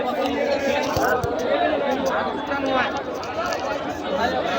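Dense crowd babble fills a busy traditional village cattle and goat market in Badarganj. Many overlapping voices murmur and chatter close by, continuous and loud, with no single speaker standing out.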